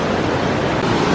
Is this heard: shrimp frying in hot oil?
no